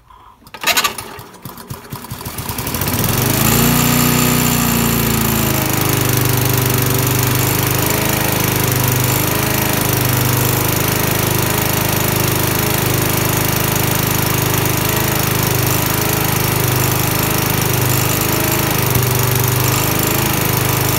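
A side shaft engine with a carburetor fault starts up and runs steadily on its own, a loud, continuous chugging drone with an even rhythm lasting throughout.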